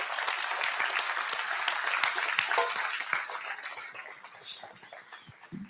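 Conference audience applauding a guest, a dense round of clapping that stays full for about three seconds and then gradually thins and fades toward the end.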